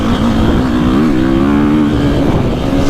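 KTM 450 Factory Edition dirt bike engine on a 350 map pulling smoothly under acceleration on rough chop, a loud close buzzing drone whose pitch climbs and dips steadily across the few seconds.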